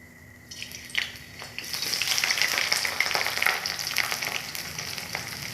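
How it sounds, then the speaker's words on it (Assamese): Onions and green chilies go into hot oil and set off a bright, steady sizzle that builds after a quiet start, with a few soft clinks of stirring in a home kitchen. "এতিয়া মই ইয়াত পিঁয়াজ আৰু কেঁচা জলকীয়াখিনি অকণমান ফ্ৰাই কৰি লওঁ"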